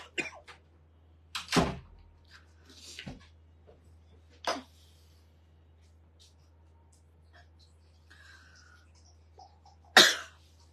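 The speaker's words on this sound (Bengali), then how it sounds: "সরি আমার কাশি উঠে গেছে।" A woman coughs several times in a quiet indoor room, sharp separate bursts spread across the stretch with a louder final cough, a low steady hum underneath.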